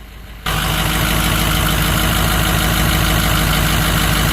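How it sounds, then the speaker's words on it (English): A Ford 6.0 diesel engine running rough, starting abruptly and then droning loudly and continuously up close, with a steady low rumble and no clear rhythm changes. "all of a sudden I felt it kind of flicker and just kind of kick down and pick back up, and the engine RPMs were changing"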